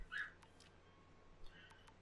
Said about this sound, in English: dogs are still barking outside my door